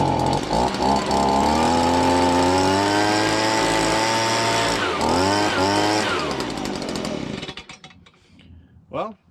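A Stihl BG55 leaf blower's two-stroke engine runs loud and close after a carburettor fix, its pitch sliding up and down as it revs, then it cuts out and sputters to a stop near the end.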